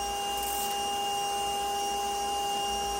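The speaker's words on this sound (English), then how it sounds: "Vacuum that up real quick." A vacuum drawing up honeybees while a hive is cut out at Ewa Beach, a loud steady motor whine with sharp tonal hum, continuous and close, no talk.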